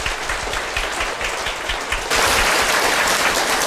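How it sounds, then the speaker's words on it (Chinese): Audience applause at a Yiguandao testimony gathering in Thailand, a steady wash of many hands clapping that swells louder and denser partway through, with no voices over it. "谢谢你们的掌声"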